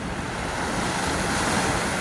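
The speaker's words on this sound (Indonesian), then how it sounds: "Jadi di sini ada gelombang" Ocean swell breaks on a calm beach with coconut palms and no wind, a steady loud wash of surf filling the whole moment without a pause.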